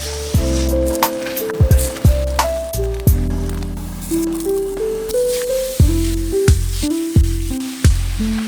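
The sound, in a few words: stir fry sizzling in a pan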